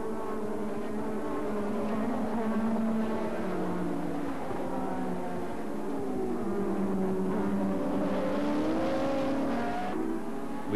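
Formula 1 cars from the 1986 Grand Prix race past in a continuous engine roar, with several overlapping high-pitched whines rising and falling steadily throughout.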